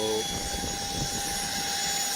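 An airplane engine drones steadily and loudly at an airfield as a police chief is loaded aboard for medical transfer, a constant whine with a roaring low rumble throughout.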